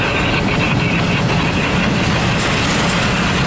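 A train rolls steadily past at close range, a loud continuous rumble with faint rhythmic clatter from the wheels and no voices.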